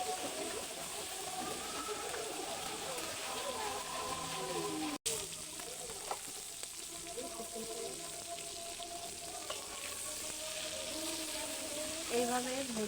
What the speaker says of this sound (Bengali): মাছ বেশি ভাজবো না, হালকা করে ভেজে নেব এপিট ওপিট করে।